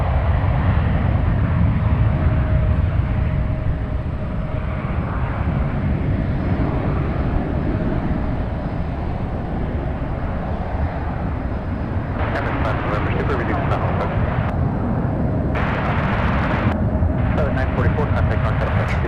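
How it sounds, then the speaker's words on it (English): An Air India airliner passing over the bay near San Francisco, a loud steady jet roar filling the whole stretch, with intermittent crackling handling noise near the end and no clear speech. "Air India is over the bay"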